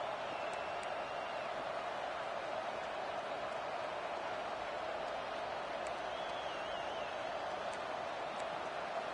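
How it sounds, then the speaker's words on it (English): Steady crowd roar fills a college football video game stadium during a Memphis at FSU matchup, a continuous broad wash of noise that never lets up, with a faint commentary voice riding on top. "The roar of the crowd trying to fuel this defense to keep them pinned in their own end."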